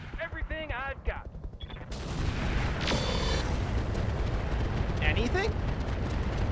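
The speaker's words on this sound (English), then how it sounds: "Firing everything I've got." A mech in the RogueTech game fires a full weapons salvo at a Shiv, a dense roar of gunfire and blasts that starts abruptly and keeps going, with a voice briefly over it at the start.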